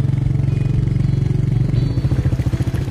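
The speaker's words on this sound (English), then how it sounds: "It's a signature engine sound, a very signature exhaust note." Up close, a Royal Enfield Meteor 350 high-torque motorcycle engine puts out a rapid, even thumping exhaust beat that grows slightly more pronounced and uneven toward the end.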